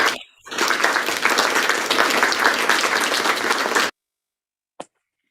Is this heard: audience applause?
yes